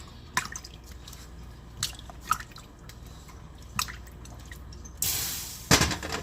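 A hand dips into water while shaping corn porridge paste for an okra sauce meal, giving small scattered drips and light splashes, with a brief louder splash near the end and no talk.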